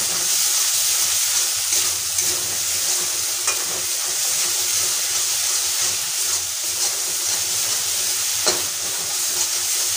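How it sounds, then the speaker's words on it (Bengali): A ground spice masala of coriander and cumin frying in a pan for egg curry sizzles loudly and continuously, with scraping stirs mixed into the steady hiss and no voices. "ভালো করে কষিয়ে নিয়েছি মশলা।"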